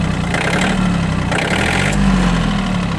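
A Yanmar F180 mini tractor's engine idles close by with a steady low rumble and a faint rise in pitch partway through, loud and continuous for the whole stretch, with no talking.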